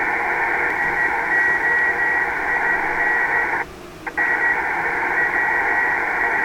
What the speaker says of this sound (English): You can hear that Morse code, but it's kind of buried in the noise